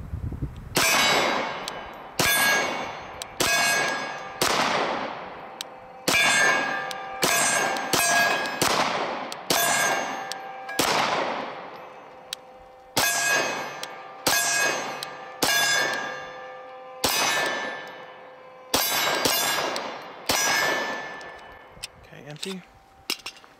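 Arex Rex Zero 1S 9mm pistol fired at steel targets outdoors, each shot followed by a ringing metallic clang that decays, fired singly and in quick pairs across a long string of rounds.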